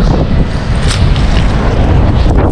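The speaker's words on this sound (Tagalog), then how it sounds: "Malakas yung hangin po talaga." Strong wind buffets the microphone at sea aboard a fishing boat, loud continuous roaring rumble with gusty swells.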